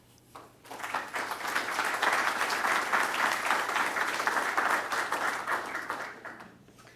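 An audience at an electrical energy research symposium breaks into sustained applause that swells quickly, holds steady for several seconds and then fades out, with no talking over it.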